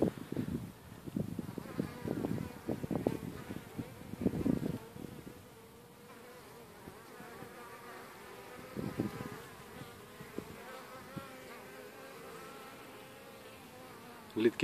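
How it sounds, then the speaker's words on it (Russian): Honeybees pour out of a hive entrance on their first spring cleansing flight in March, making a steady buzzing hum with louder swells as bees pass close by. "Первые пчелки выходят."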